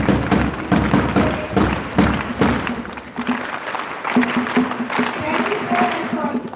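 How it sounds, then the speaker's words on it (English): A school crowd at a Constitution Day celebration claps in a loud, dense round of applause that runs steadily throughout, with a brief dip midway before the clapping swells again. "So please, one time, loud round of applause for Dharmapal sir."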